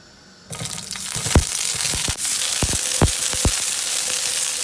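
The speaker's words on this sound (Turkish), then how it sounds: "Mantarı atıyorum. Hepsini beraber karamelize yapacağım." Onions and mushrooms hit hot oil in a pan and start caramelizing, a loud steady sizzle that jumps in suddenly and holds, with a few sharp clatters from stirring or ingredients landing, no voices.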